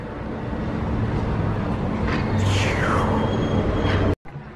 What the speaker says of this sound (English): This one's my favorite monorail.